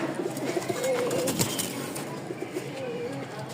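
Pigeons sold as pet and flying birds give soft, repeated low coos at close range, a steady murmuring of several birds with faint rustling behind.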